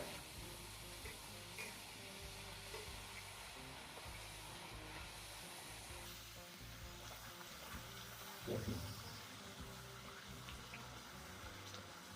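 Jowar vade, a spicy North Karnataka fried snack, frying in hot oil, giving a steady close sizzle and bubbling throughout with a brief louder burst of spattering partway through; no talking.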